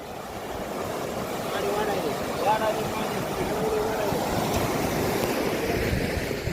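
Floodwater rushing fast and rising after all the gates of Dhanegaon dam were opened, a steady loud broadband roar from a riverside road, with wind buffeting the microphone throughout.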